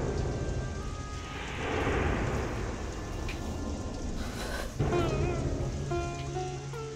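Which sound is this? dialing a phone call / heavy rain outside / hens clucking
heavy rain outside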